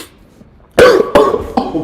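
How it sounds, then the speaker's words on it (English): Three sharp coughs, close and loud, coming in quick succession after a moment of near silence. "I'm coughing like crazy."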